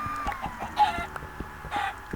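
Chickens cluck in quick, repeated bursts with a couple of louder squawks, in Minecraft game audio with no one speaking.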